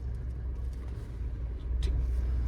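A car engine rumbles low and close as a learner releases the clutch and pulls away, the drone swelling slightly toward the end with a faint click.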